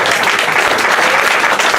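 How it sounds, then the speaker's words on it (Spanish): Congregants clap together during a Spanish-language evangelical church service, a dense, steady, loud wash of applause that carries on throughout without a break. "aplauso"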